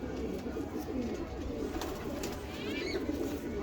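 Several pigeons of rare nasal breeds coo softly and continuously in a loft, a steady low murmur of overlapping calls, fairly close, with no talk.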